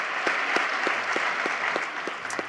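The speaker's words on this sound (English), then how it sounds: "And so we'll clap for that." Audience applause at a State of the City address as a key to the city is presented, a steady crowd clapping filling the hall, moderately loud and continuous.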